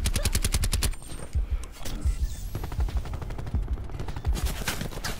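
Rapid automatic gunfire in a Call of Duty match, loud and close, with dense bursts of repeated shots, a brief lull, then more sustained firing to the end.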